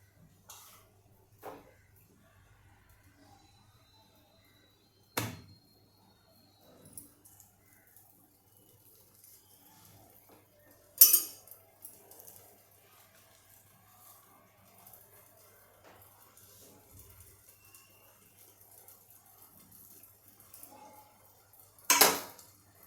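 A utensil cutting thalipeeth flatbread in a pan, giving a few sparse sharp metallic scrapes and clinks separated by long quiet stretches in a hushed kitchen.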